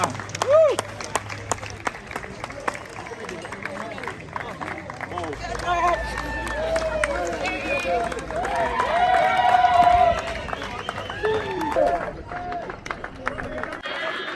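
Spectators cheer and call out near the finish of the Congo River Marathon as a runner approaches, with a continuous lively crowd hubbub, scattered shouts and some clapping throughout, fairly close and busy.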